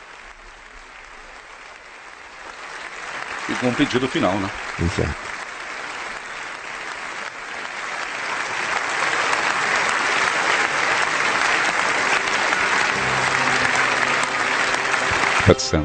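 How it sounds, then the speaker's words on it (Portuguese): The German parliament rises in a standing ovation for Pope Benedict XVI, sustained dense applause that swells and holds steady, with two voices speaking briefly over it early on. "ele é aplaudido com o parlamento de pé"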